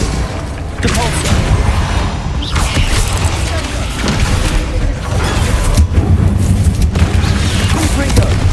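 Force spell blasts from Depulso in the video game Hogwarts Legacy: repeated booming bursts and thuds over several seconds, loud and close, with a muffled speaking voice mixed into the game sound.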